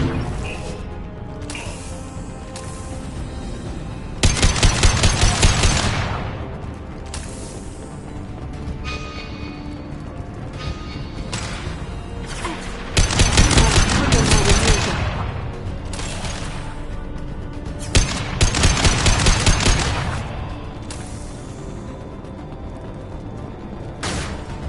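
Gunfire in the sci-fi shooter Mass Effect 2 comes in three loud, sustained bursts over an ongoing combat din, with brief game dialogue between them.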